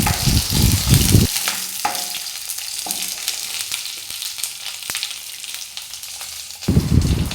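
Curry leaves and a small lump of asafoetida sizzle in hot oil for a tomato rasam, with loud crackling bursts at the start and end around a quieter, steady fizz.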